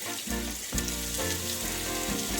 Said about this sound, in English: Now at this point I'm going to add the garlic.